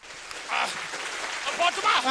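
Scattered clapping from a crowd rises and swells toward the end, mixed with a murmur of voices in the background.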